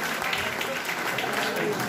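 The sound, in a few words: audience applause welcoming a guest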